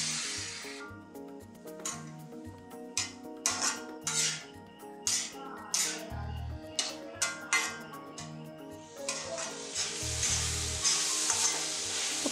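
Cauliflower upperi stir-fry sizzles steadily in a pan while a dosa ladle stirs it, with repeated scraping and clinking strokes against the metal over a constant frying hiss; no one speaks.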